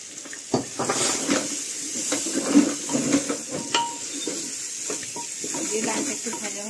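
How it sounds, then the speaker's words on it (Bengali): Lentils (dal) with turmeric fry in a pan and are stirred, making a steady, watery sizzle with scattered scraping clicks of the spoon at close range. "ডালটা একটু ভাজা ভাজা করে নেব।"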